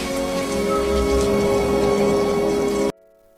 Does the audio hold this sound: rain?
yes